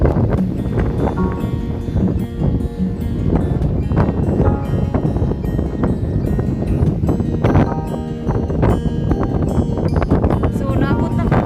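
Wind blowing hard across a mini farm in Kuwait, a steady loud rush and buffeting against the microphone that runs the whole time, with animal and farm sounds faintly mixed in.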